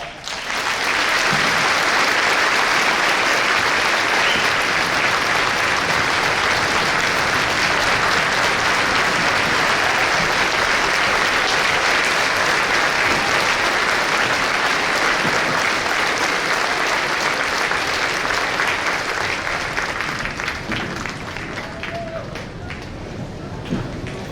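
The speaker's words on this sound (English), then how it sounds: "Please join me in a round of applause to celebrate Mr. Ray Hall." Sustained audience applause at a Veterans Day ceremony honoring a veteran, dense and steady clapping from a crowd for over twenty seconds, tapering slightly near the end.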